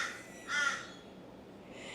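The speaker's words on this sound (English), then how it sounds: "getting so irritated by the birds. They keep making sounds" A single crow caws once in the morning, a harsh call at moderate distance over quiet background hiss, followed by a fainter bird call near the end.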